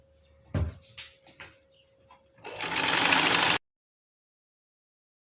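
A sewing machine stitches a kimono jacket seam, preceded by a few clicks and knocks of handling, then runs in one close, steady burst of about a second before stopping abruptly into silence.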